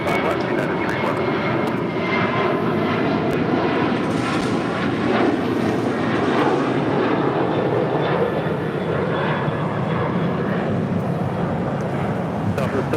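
Southwest Boeing 737-800 jet taking off at LAX, a loud continuous broadband engine roar that swells and holds throughout, heard close with faint voices underneath.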